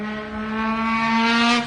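A Nissan 350Z engine and exhaust drone loudly and close in one steady, rising rasp lasting under two seconds, heard alone without talk.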